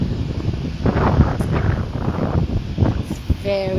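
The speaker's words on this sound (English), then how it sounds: "It's very, very windy." Strong wind buffets the microphone in loud, gusty rumbles, with a voice speaking faintly under the roar.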